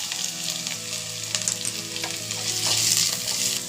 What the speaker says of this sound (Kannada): ನೋಡಿ, ಇವಾಗ ಶುಂಠಿ ಬೆಳ್ಳುಳ್ಳಿ ಪೇಸ್ಟ್ ಹಾಕ್ತಾಯಿದ್ದೀನಿ